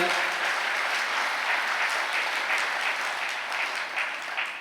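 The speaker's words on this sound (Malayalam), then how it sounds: "ഒന്ന് കൈയടിച്ച് കർത്താവിനെ മാത്രപ്പെടുത്തുക" A church congregation claps hands together in praise, a dense, steady wash of many hands filling the room for the whole stretch with no voices over it.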